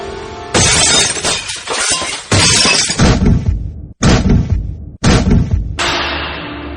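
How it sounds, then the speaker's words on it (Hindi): Loud car window glass shattering and smashing in several sharp bursts, each breaking into a dense crash with tinkling debris trailing off, separated by brief gaps. "बाहर खड़ी कार के न सिर्फ कांच टूटे हुए थे"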